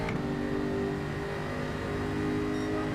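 A Group 4 race car in Gran Turismo 7 at full throttle, a loud, steady, buzzing engine drone with layered harmonic tones that holds evenly throughout, with no talk.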